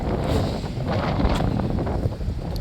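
Wind blowing outdoors on a cold walk, buffeting the microphone with uneven low rumbling gusts that continue throughout, with no voices.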